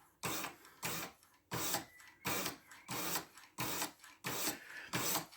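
A Sitivien ST147 knife with 14c28n steel is drawn across a sharpener in quick, regular rasping strokes, about eight scrapes in a steady rhythm, close and fairly quiet.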